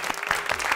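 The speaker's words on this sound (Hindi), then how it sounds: "इसमें तालियां लगवा देना यार।" A brief burst of applause on a TV talk show, many hands clapping quickly together, fairly faint and distant.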